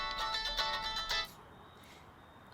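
A phone ringtone plays a bright repeating electronic melody for about a second, then stops, leaving near silence before a brief click.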